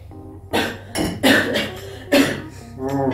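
A person in a home kitchen where pancakes are being made coughs in several short, fairly loud bursts spread across a few seconds, with a low steady background hum.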